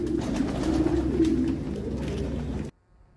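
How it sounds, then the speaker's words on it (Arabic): Pigeons cooing in a pigeon loft on a farm, a dense low rolling coo from several birds, close and continuous before it cuts off abruptly. "وده كمان حمام تحته زغاليل"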